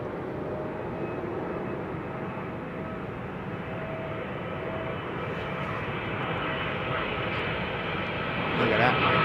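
An Airbus A340-600 airliner arriving on runway 09L at Heathrow, its engines a steady broad roar that holds close and loud throughout and swells near the end, with voices talking over it.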